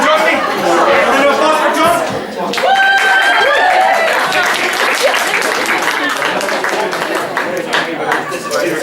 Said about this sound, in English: A little applause for John.